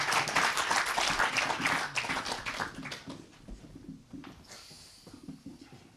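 Audience applause at a French awards ceremony for original series, loud and dense for about three seconds before tapering to scattered claps and murmuring voices.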